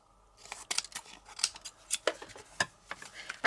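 Scissors snip repeatedly through card stock while trimming a handmade card: a quiet, irregular series of crisp, sharp cuts close by, with no voice.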